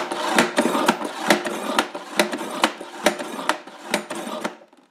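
Kitchen knife drawn repeatedly through the built-in sharpener slot of a Ninja Foodi NeverDull knife block, giving about ten evenly spaced scraping strokes, close and fairly loud, with no talking.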